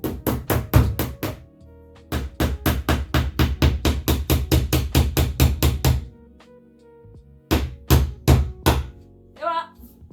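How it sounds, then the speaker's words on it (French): Nails are driven in with a pebble instead of a hammer while building a bookshelf: fast runs of sharp, close knocks in three bursts, separated by short pauses. "je suis en train de montrer au monde entier que je plante des clous avec un caillou"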